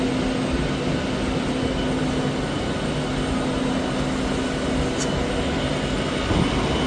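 An Avanti West Coast Class 390 train pulls into Edinburgh Waverley, a steady broadband roar with a faint tonal hum, continuous and fairly loud, with a brief high squeal partway through.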